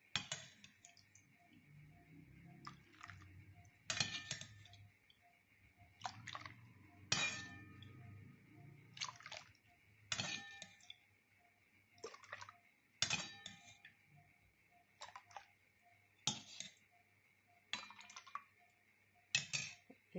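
Eggs whisked with milk in a bowl for an omelette, a quick rhythmic run of metal clinks against the bowl, with quieter pauses between bursts and no talk.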